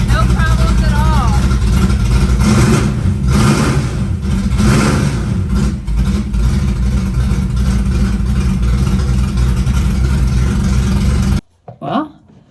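Several cars in a collection being moved across the country, engines running loudly and continuously with revving under steady talk, ending in an abrupt cutoff followed by a brief voice.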